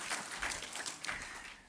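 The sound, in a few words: audience applause at a poetry gathering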